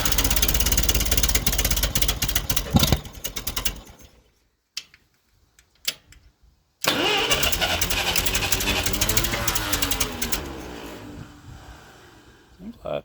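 Ferguson TO20 tractor engine cranking over and trying to start without catching because of a fuel problem, a loud rhythmic chugging that stops, falls silent, then resumes before fading.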